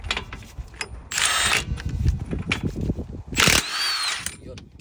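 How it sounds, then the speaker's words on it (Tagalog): An impact wrench on a 30mm nut during a brake shoe replacement on a Suzuki Swift, two loud bursts of hammering rattle close by, with someone talking between and over them. "malakas ang impact wrench natin."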